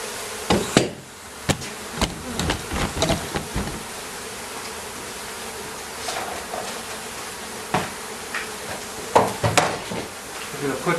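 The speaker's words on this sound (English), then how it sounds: "there's a lot of bees" Honey bees hum in a steady close buzz, broken by scattered knocks and clatter as something is handled nearby.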